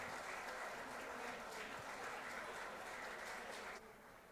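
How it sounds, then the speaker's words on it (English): Audience at an awards ceremony in the historic Lincoln Theater applauds with dense, sustained clapping that carries on evenly before dropping off sharply near the end. "please give a warm round of applause for Mr."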